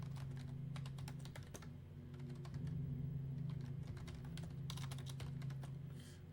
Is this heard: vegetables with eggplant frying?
no